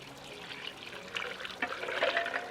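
Coconut water pours into a blender filled with about half a cup of ice, a close, bright trickling and splashing that swells louder toward the end, with no talking.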